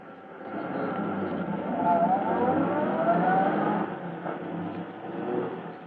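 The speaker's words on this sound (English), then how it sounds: "as Polecat and Scrubby in their fast car escape from the scene" A fast getaway car roars away at night in a radio-drama sound effect, engine revving loudly and steadily for several seconds with a rising whine before easing slightly near the end.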